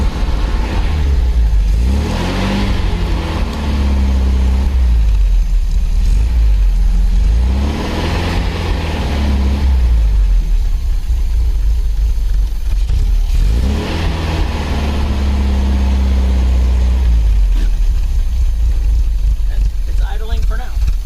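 A 1974 MGB's engine runs at a steady idle, with a low continuous rumble underneath and occasional louder swells. People talk over it for much of the time.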